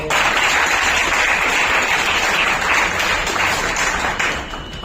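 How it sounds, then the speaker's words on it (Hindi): At an orator-of-the-month award ceremony, loud, close applause from the audience fills the hall as a thick, continuous clatter, easing slightly toward the end. "तालियां बजनी चाहिए।"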